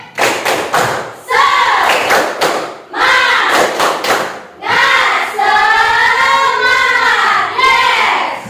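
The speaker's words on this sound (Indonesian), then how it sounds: "Kita tepuk semangat." A group claps the rhythmic Indonesian 'tepuk semangat' spirit clap in a classroom, sharp patterned bursts of hand claps in repeated phrases, loud and close, with brief gaps and a chanting voice threaded through the pattern.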